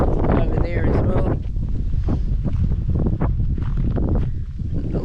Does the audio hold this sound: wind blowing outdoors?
yes